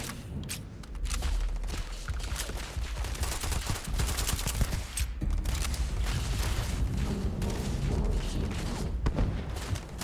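Grenade explosions mixed with rapid gunfire in Starfield, a dense, sustained barrage of shots and blasts at steady loudness with no talking over it.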